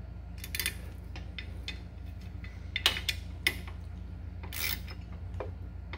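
A Club Car golf cart motor is being reassembled as bolts are tightened in turns to press a bearing onto its shaft; scattered sharp metallic clicks and scrapes come and go over a low steady hum, with no talk.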